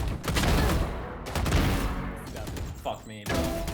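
Rapid bursts of gunfire from the tactical shooter game Valorant, a dense loud fusillade of shots that pauses briefly, followed by a few sharper single cracks near the end.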